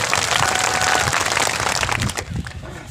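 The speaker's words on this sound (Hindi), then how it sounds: "इसलिए एक बार आप सबके लिए, इस आयोजन कमेटी के लिए जोरदार तालियां बजा दी जाए।" A large crowd at a tribal rally in Sagbara loudly applauds the organizing committee, a roaring, dense clapping wash that holds strong, then thins and fades near the end.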